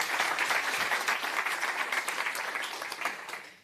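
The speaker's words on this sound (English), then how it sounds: "Everyone else has received a nice warm applause when entering the stage, and you're going to have that too." An audience at the Northern Lights Summit 2023 applauds a speaker walking onto the stage, giving dense, warm clapping from a large crowd that holds steady for several seconds and then tapers off.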